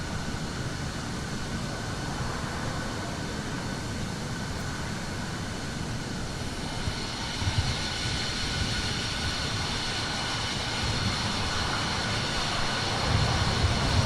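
An Air China Boeing 777 taxiing at an airport, a steady, broad jet engine roar that holds for the whole stretch and swells slightly toward the end, fairly loud and with no one talking.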